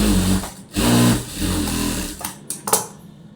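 A sewing machine stitching blouse fabric runs in loud whirring bursts, pausing briefly between runs, then ends in a few sharp mechanical clicks.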